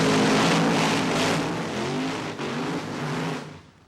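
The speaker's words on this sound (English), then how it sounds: "Gets the bike into high gear, leaning to keep it upright, drives towards the top end of the quarter mile" An NHRA drag racing motorcycle screams down the quarter-mile strip at the Can Am Nationals, its loud, sustained high-revving engine roar holding steady before fading away at the end.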